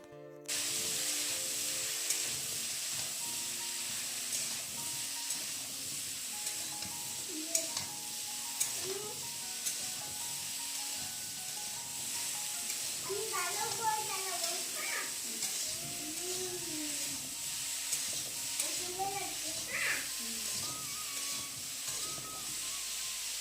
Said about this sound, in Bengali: তেলটা গরম হয়ে গেছে এখন আলু আর ফুলকপিটা ভেজে নেবো